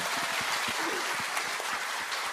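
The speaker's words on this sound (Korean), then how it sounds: "박수 한번 보내주세요" Brief applause from a studio audience on a talk show, a short burst of steady clapping lasting about two seconds.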